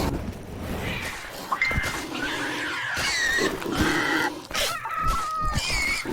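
A pig grunts and squeals in the creature-collecting game CHKN amid busy game effects and clatter, its calls repeating loudly over several seconds.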